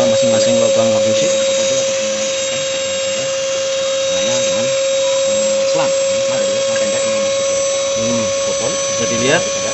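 A vacuum cleaner draws through the spark plug holes of a Grand Livina engine during home carbon cleaning, producing a steady high-pitched whine. Someone talks continuously over it.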